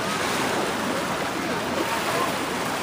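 Water waves washing steadily against a ferry crossing the Danube, a continuous broadband rush with wind buffeting the microphone throughout.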